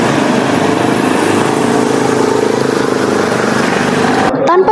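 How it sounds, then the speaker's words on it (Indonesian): A motorbike engine runs steadily and loudly up close with a constant buzzing drone that cuts off near the end, ridden by two students on their way to school on a bright morning. "Aldi dan Tarkiman pergi ke sekolah dengan menggunakan motor"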